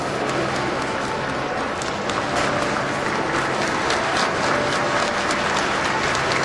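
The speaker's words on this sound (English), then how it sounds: "indeed hear them applauding." Crowds lining Whitehall along a state funeral route applaud in a dense, sustained patter of clapping, moderately distant and spread wide, with faint background murmur.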